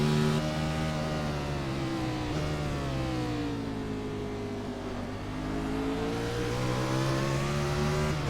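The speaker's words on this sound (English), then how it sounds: "You can hear the engine change pitch right there in Benjamin Nelson's car." Race car engine during a race, loud and steady with its whine sliding lower and then climbing again as the car works through a lap, with no talk over it.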